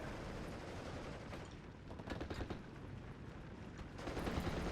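Artillery booms across a World War II battlefield in Steel Division: Normandy 44 amid a steady, rumbling din of distant gunfire. Several louder blasts stand out near the middle and the end.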